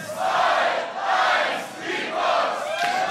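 A crowd at a German Beatbox Championship loopstation semi-final cheers and shouts loudly in swelling waves, the roar rising and dipping in three surges at close range.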